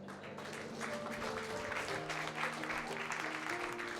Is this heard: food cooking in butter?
no